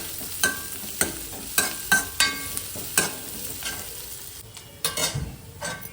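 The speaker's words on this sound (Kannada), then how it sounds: "ಎಣ್ಣೆ ಪಾಡ್ಯ ಬೊಕ್ಕ ನೀರುಳ್ಳಿಲ್ಲ ಕಾಯಿ ಮೆಣಸೆಲ್ಲ ಫ್ರೈ ಮಾಡ್ತದ" Onions and green chillies fry in oil, a light sizzle under a series of distinct scraping strokes and taps of a spatula against the pan, coming in an uneven rhythm.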